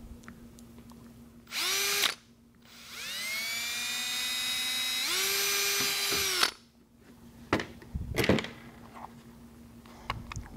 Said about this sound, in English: we're going to take a 9/64 bit and pre-drill these bubble boxes